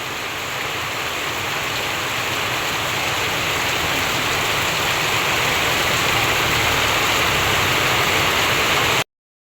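Downpour of heavy rain drums continuously around a house yard that is filling with water, a loud, broad, unbroken hiss from start to finish before cutting off abruptly.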